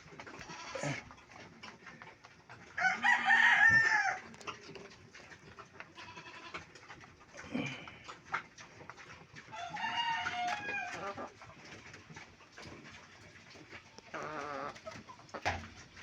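Broiler chickens on a farm cluck and call in several loud, separate bursts, with crowing-like cries among them and quieter rustling in between.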